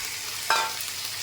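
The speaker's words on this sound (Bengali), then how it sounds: "পেঁয়াজ কুচিটা ভাজা ভাজা হয়ে গেছে, শিমলা দিয়ে দিলাম," Chopped onion and capsicum sizzle in a pan on the stove, a soft steady frying hiss broken by one brief clink of a utensil partway through.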